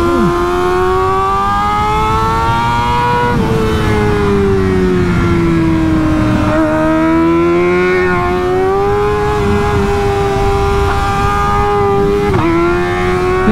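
A Graves Motorsports Kawasaki ZX-4RR races along, its high-revving inline-four screaming loud and close. The pitch rises and dips through shifts over a constant rushing roar.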